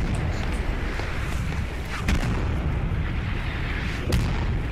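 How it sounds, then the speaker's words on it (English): Enemy artillery shelling in the Post Scriptum war game, a heavy continuous rumble broken by sharper booming impacts about two seconds apart, loud and close, with no speech. "Guys, in cover, it's enemy artillery."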